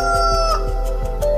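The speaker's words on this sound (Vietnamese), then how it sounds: "Mới 5 giờ sáng anh gà đã gáy rồi hả?" A cartoon rooster crows at five in the morning, a loud, sustained cock-a-doodle-doo with clucking harmonics, set over a steady background bed with no talk.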